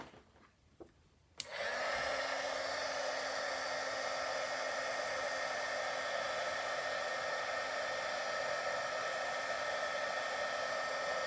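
A heat tool blows hot air over a stamped Christmas card, switching on after a couple of soft clicks and then running as a steady, loud, whooshing hum with a faint tone for about ten seconds, close and without voices.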